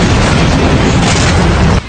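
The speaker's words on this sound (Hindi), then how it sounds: "उत्तरी इस्राइल में एक के बाद एक कई धमाके हुए" A loud, sustained roaring blast from explosions in northern Israel after a Hezbollah attack fills the clip, a heavy booming rumble that cuts off abruptly near the end.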